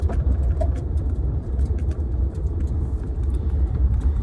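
A car rolls around small land plots in Ongkharak, Nakhon Nayok, giving a steady low engine rumble and road noise from close by, without speech.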